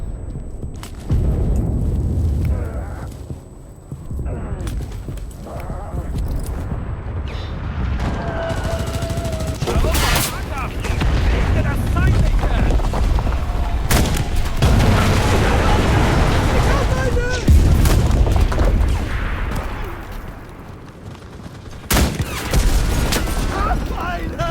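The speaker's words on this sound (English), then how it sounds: "The tank literally shoots at this room from the outside, by the way, and kills us inside." A tank shells a room from outside in a video game, producing repeated loud booming explosions and bursts of gunfire with rumbling debris over about twenty seconds, while players talk excitedly underneath.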